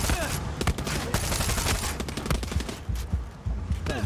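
Rapid bursts of gunfire from the video game Far Cry 6, with close, loud overlapping shots and automatic volleys firing almost continuously, broken by brief lulls.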